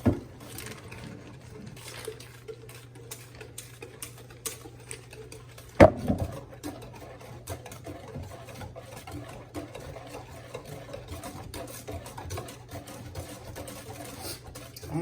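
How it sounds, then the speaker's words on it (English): A whisk beats a thick lemon-juice mixture in a bowl with quick, rhythmic tapping and scraping that keeps going throughout. A sharp clack sounds about halfway through. "I'm gonna whisk that together."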